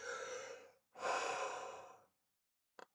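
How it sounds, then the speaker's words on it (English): A person yawns twice, long breathy exhalations close to the microphone, separated by a short pause, then a brief soft click at the end. "sorry for the yawning, folks"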